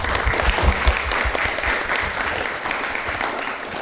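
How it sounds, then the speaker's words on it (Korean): Audience applause opening the second part of a live public podcast broadcast, a full, dense round of clapping from the crowd that stays loud and steady throughout. "공개 방송 2부를 큰 박수와 함께 시작하도록 하겠습니다."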